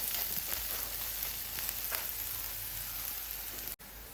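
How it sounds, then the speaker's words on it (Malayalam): Small shallots and garlic fry in a pan for a prawn and small onion roast, giving a dense, steady sizzle with a few faint stirring scrapes and a brief dropout near the end. "ഇത്രയും ചെറിയ ഉള്ളി ഈ വെളുത്തുള്ളിൻ്റെ ഒക്കെ പച്ച സ്മെല്ല് പോകുന്നവരെ നമുക്ക് നന്നായിട്ടൊന്ന് ഇളക്കിയിട്ട് വേവിച്ചിട്ടെടുക്കാം"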